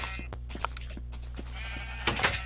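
Sheep on a video game sheep farm bleat in short calls, with a louder, nearer bleat near the end over a steady low background hum.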